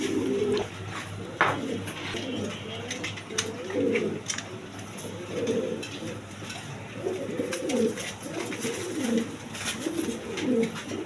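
A male pigeon of a new model pair coos in repeated low, rolling phrases close by, with light chirps and background noise around it and no clear talk.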